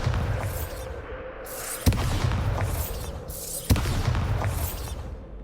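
Repeated blasting-spell explosions in the video game Hogwarts Legacy: two sharp booms land about two seconds apart over a dense, rumbling battle din, with loud sustained low roar between hits.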